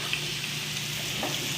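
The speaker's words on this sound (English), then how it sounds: "I can hear my oil sizzling over here" Steady, close sizzling of hot oil in a frying pan, a dense hiss that holds evenly throughout with no talking.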